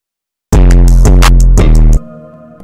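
A hip-hop beat pushed hard into a limiter with the gain cranked until it crushes, loud and dense for about a second and a half with punchy hits, then dropping abruptly to a quieter sustained tail.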